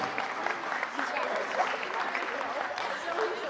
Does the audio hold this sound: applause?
yes